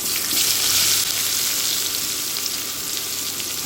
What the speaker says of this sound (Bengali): এখন এই তেলের মধ্যেই দিয়ে দিচ্ছি কেটে রাখা পেঁয়াজ কুচি।